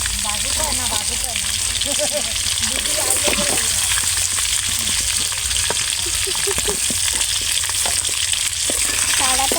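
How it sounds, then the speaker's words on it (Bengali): Loud, steady sizzling of chicken frying in a pan over a wood fire, with stirring scrapes and people talking nearby. "এবার মাংসগুলো ভাজা হয়ে গেছে"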